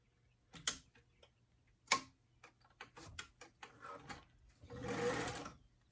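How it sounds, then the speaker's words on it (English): A sewing machine makes a few back stitches to secure the hem of a lined BJD doll dress. It runs in short separate bursts and then one longer steady run, close and fairly quiet, with no one talking. "let's go ahead and start it with a few back stitches just to secure that hem edge"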